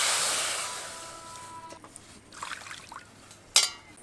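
Water pours from a bowl onto lentils set for boiling, a steady rushing pour that tapers off within two seconds, followed by faint drips and a sharp clink at the end.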